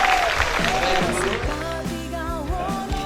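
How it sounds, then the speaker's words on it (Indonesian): Steady applause from an audience at an outdoor assembly for the regent of Gunungkidul runs through the moment, mixed with a voice and tonal background sound. "tepuk tangan untuk Pak Bupati kita semua"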